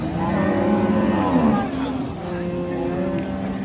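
Cattle low loudly and close at a rural livestock market in Ranigonj, Dinajpur, one long drawn-out moo dominating the clip before fading, with crowd murmur beneath.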